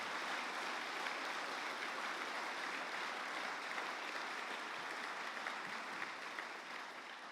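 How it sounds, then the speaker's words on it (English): An audience at a school business lunch claps in sustained, dense applause that holds steady throughout and tapers slightly at the close, with no one speaking over it. "Give them a round of applause."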